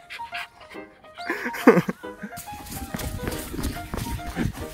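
Old English Sheepdog whimpering indoors: brief high whines and whimpers around the middle, with scuffling movement and people talking across much of the clip.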